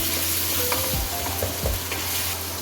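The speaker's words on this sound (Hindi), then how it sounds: "अब इसको इसके साथ भून लें मसालों के साथ" Red chili powder, crushed chili and turmeric fry in hot oil in a pan for an aloo baingan sabzi, giving a continuous close sizzle broken by a few soft stirring scrapes, with no voices.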